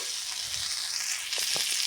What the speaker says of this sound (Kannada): ಅದರ ಮೇಲೆ ಸಹ ಕರಿಬೇವಿನ ಎಲೆಯನ್ನು ಇಟ್ಟು 2 ಕಡೆ ಫ್ರೈ ಮಾಡ್ಕೋಬೇಕು.